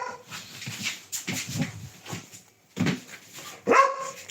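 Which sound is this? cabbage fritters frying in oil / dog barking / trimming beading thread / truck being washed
dog barking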